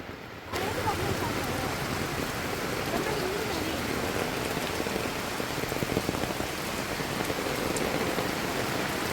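Monsoon rain pours steadily in Idukki, Kerala, a dense hissing patter of drops on surfaces that begins abruptly and holds an even, full intensity.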